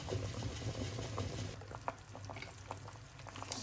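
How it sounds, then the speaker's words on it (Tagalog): Pork ribs boiling in a pot of water for a Filipino nilaga, a steady close bubbling and simmering with small pops, no voices. "pakukuluan lang natin guys hanggang sa lalambot yung karne"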